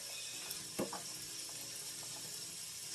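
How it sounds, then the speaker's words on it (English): Ground beef sizzles steadily in a pot for lasagna soup, a constant close hiss with a couple of brief clinks near the start. "Okay, we're going to go ahead and add the ground beef"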